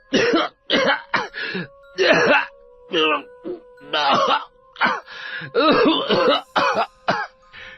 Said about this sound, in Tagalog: Walang tigil ang pag-ubo ng binata.